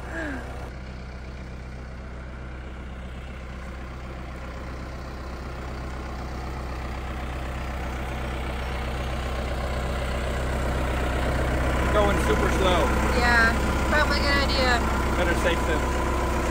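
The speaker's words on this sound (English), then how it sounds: "How nice is it to have a tractor, Seth?" A tractor engine idles and runs at an off-grid homestead, a steady low rumbling drone that swells slightly louder over time, with brief voices heard faintly near the end.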